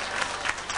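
A comedy show audience at Discoteca Hollywood in Santa Maria da Feira breaks into brief, dense applause, a short burst of clapping with a few louder swells.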